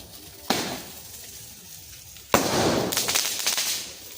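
An aerial shell firework bursts outdoors during Diwali celebrations: a sharp bang, then a louder second blast followed by a spray of crackling that fades.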